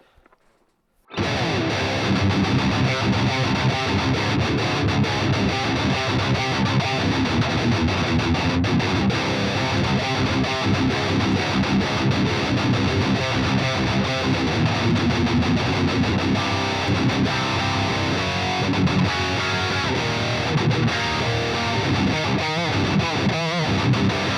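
Heavily distorted electric guitar through the Bogren Digital Trivium Ampknob amp plugin on its default tone plays continuously and loud, thick saturated chords and riffs ringing out alone after a brief quiet start.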